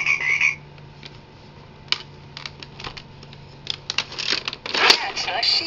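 An electronic animal-sound toy plays a frog croak in a short run of raspy bursts that builds toward the end, with someone speaking softly to a baby beneath it.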